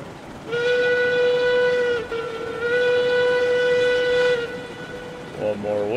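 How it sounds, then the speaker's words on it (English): A steam locomotive whistle from RailRoads Online sounds in two long, steady blasts separated by a short break, loud and close over a low running rumble, then fades to a brief lower toot at the end. "Whistle blow before we leave the valley and don't get our good echo anymore."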